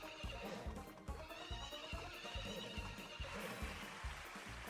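Horse neighing and whinnying in the Story of Seasons: Friends of Mineral Town farming game, over a steady looping game music track with rhythmic low beats, the whinny loud and clear near the start.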